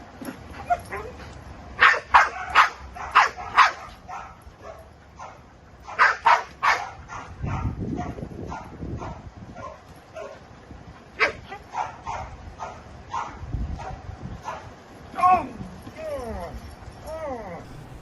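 A dog trained to guard a step stool barks in short, sharp bursts of repeated woofs close by, some clusters loud and others with whimpers, while a trainer talks between them.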